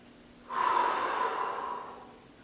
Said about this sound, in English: I take a big breath in.